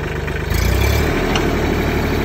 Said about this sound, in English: This Mitsubishi doesn't. So this is one of the smoothest sounding engines in this class